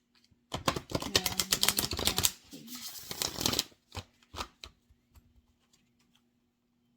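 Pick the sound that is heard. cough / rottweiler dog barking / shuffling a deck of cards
shuffling a deck of cards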